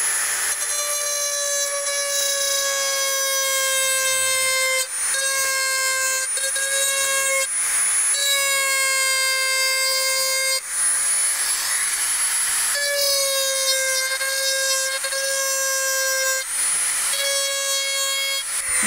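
A handheld grinder biting into a bike part gives a loud, sustained high-pitched whine rich in overtones, broken by a few brief dips as the tool eases off and bears down again.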